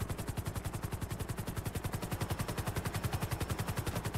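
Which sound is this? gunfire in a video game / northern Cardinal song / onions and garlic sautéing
gunfire in a video game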